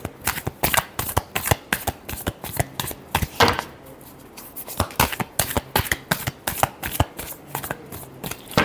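Tarot cards are shuffled by hand in quick repeated bursts of crisp riffling and slapping, close and clear, with short pauses between rounds and no voice.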